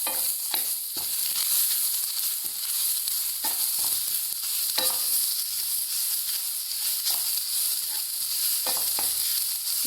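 Coconut oil sizzles and crackles steadily in a pan of frying grated coconut, with occasional sharper scrapes and clicks of stirring throughout, no talking.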